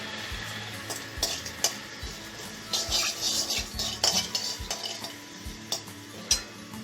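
Dried chilies, bay leaf and panch phoron are stirred in hot oil in a pan for masoor dal curry, with a soft sizzle beneath repeated close metallic spatula clinks and scrapes at an irregular rhythm, no talking.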